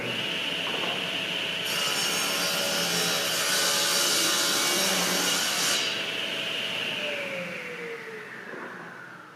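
A table saw runs steadily in a woodworking shop as a board is fed through it. A louder, brighter cutting roar lasts several seconds over the constant motor whine, then the motor winds down.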